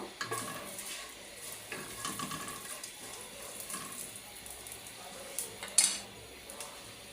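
Cardamom, cinnamon and three dried chillies frying in mustard oil are stirred in a pan, giving a faint sizzle with soft scraping and occasional clinks.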